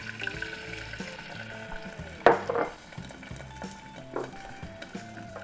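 Apple cider vinegar poured into a hot pan with melted butter gives a brief sharp sizzling burst, then fades to soft bubbling and faint clinks, with no one talking.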